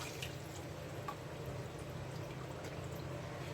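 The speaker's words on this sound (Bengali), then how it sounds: "এই যে এই দুধটা আমি দিয়ে দিচ্ছি" Milk is poured into a pan of paneer curry, a soft continuous liquid trickle with faint drips under low kitchen background noise, heard close and without talking.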